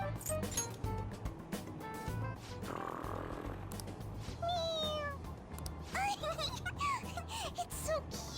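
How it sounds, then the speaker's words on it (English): A toy cat from Persona 5 Royal gives several bright, synthetic meows as its head is pressed, in short separate bursts over background game music and ambience. "It meows when you press on its head."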